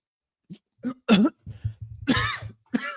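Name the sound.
voice imitating a character coughing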